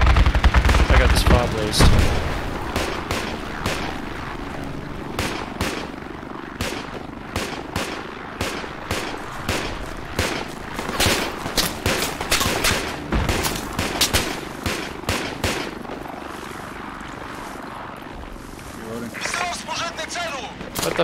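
Gunfire in the video game Project Reality around a squad fob near a castle, with dense rapid shots, repeated bursts and heavy booms over a rumbling background, loud and close, and someone speaking briefly partway through.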